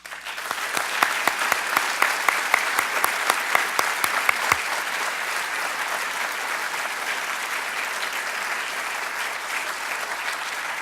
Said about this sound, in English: Please join me in a warm round of applause for our faculty and staff.